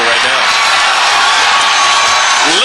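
A huge outdoor crowd of about 40,000 cheers and whoops at Nathan's hot dog eating contest, a loud, dense, continuous roar of voices that swells steadily across the moment.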